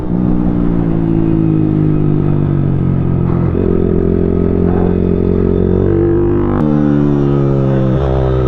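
A powerful motorcycle engine roars loudly and continuously on a race circuit, its pitch holding then shifting as it accelerates, with a whirring mechanical edge throughout.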